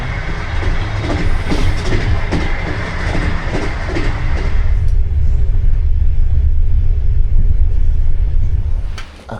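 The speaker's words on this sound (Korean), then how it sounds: "덜컹덜컹 거리는 게 약간 자연 흔들 침대가 돼가지고" A passenger train rolls along the rails in Uzbekistan, heard from inside with a steady deep rumble and rhythmic clickety-clack rattling, loud and continuous without any talking.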